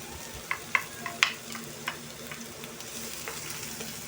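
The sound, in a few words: pork sisig with garlic and onion frying and stirred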